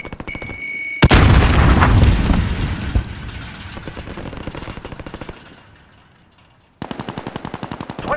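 An explosion bursts out in the Call of Duty Warzone game, followed by rapid, sustained machine-gun fire that fades before another loud burst of automatic shots returns near the end.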